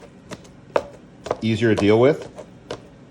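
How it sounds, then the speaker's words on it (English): Big pieces of chicken are chopped with a large knife on a board, a few sharp separate knocks spaced through the moment, close and clear, with someone speaking briefly in between. "Big knife. Big pieces of chicken. We're chopping these up."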